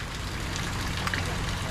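Rain falls steadily outdoors, a dense, even patter of drops hitting surfaces nearby, with faint speech mixed into the background.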